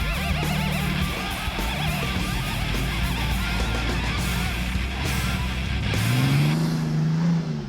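A Jeep Cherokee XJ with a 4.6 engine and 33-inch tires crawling off-road on a long-arm suspension, its engine droning loud and close under load, then revving up and whining higher near the end.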